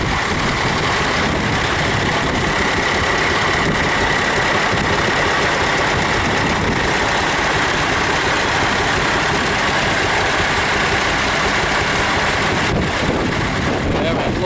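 Several classic tractor engines idle and rattle together at a vintage tractor show, a loud, steady, continuous mechanical drone with voices talking faintly underneath.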